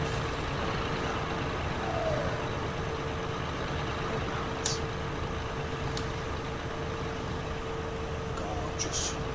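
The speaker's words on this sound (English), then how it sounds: "I'm sure it's using the sound of the truck." Simulated truck driving in the ProMods truck-driving game: a steady, loud engine drone with a constant humming tone and broadband road roar throughout, and a few brief hissing bursts like air-brake releases near the end.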